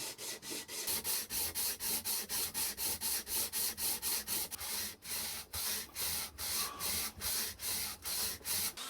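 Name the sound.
sanding wood with sandpaper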